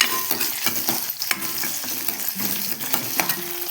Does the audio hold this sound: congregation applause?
no